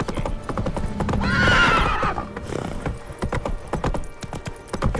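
In The Witcher 3, the horse Roach lets out a loud close whinny over a brisk run of hoof clip-clops, the hoofbeats continuing in a quick uneven rhythm after the neigh fades.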